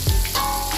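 Mixed vegetables sizzling and frying in hot oil in a pan, being readied for vegetable khichuri; a close, steady crackle with no talk over it.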